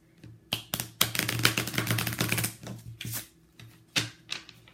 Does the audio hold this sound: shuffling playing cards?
yes